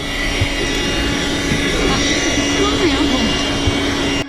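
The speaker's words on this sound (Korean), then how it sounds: "이번에 내부 차량용 청소기를 샀거든요" A handheld vacuum cleaner runs while cleaning a car interior, giving a loud, continuous motor whine and airy rush that holds steady for several seconds before cutting off at the end.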